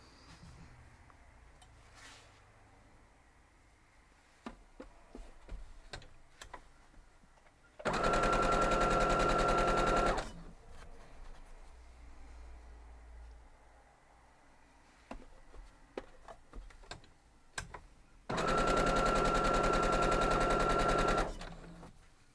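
Home sewing machine stitching quilt block pieces together, two loud steady bursts of whirring stitches separated by quieter handling of fabric between runs.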